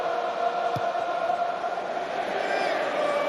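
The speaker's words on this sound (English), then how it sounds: "And the English home crowd trying to get their players going with the songs." Home crowd at an England versus Wales rugby union match singing songs to lift their team, a broad, steady wash of massed voices filling the stadium throughout, with a brief sharp whistle-like accent near the start.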